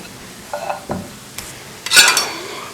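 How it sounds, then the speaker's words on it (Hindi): Gram flour frying in ghee until crisp, with a few scraping stirs and a louder burst of sizzling near the end, close by with no talking. "इसको क्रिस्पी होने तक हम फ्राई करेंगे"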